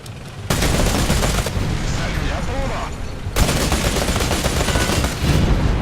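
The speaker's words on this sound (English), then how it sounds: "20mm sounds amazing, doesn't it?" Sustained, heavy 20mm automatic cannon fire in War Thunder roaring in long bursts, loud and dense, with a short break between two extended volleys.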